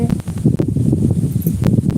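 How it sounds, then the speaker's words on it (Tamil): Strong wind blows outdoors near trees, a loud, continuous low roar with gusty swells and rustling that runs steadily throughout. "நல்லா காற்று அடிக்குது"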